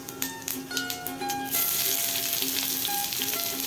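Chopped onion and whole cumin hit hot oil, beginning with a series of crisp spattering pops and then swelling into a loud, continuous sizzle that stays close and steady.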